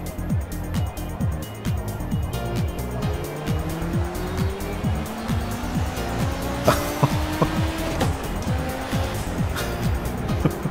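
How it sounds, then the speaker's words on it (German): A race car at full throttle in the racing game Project CARS, its engine note climbing steadily through the gears with a continuous loud, rising whine and rhythmic pulsing, tire noise mixed in throughout. "Und ab jetzt Vollgas."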